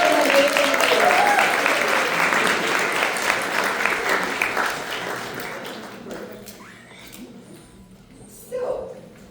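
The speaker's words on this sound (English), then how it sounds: "Big round of applause for the amazing leaders." An audience claps loudly for a group of leaders being honoured, strong at first and then tapering off over several seconds, with a brief burst of noise near the end.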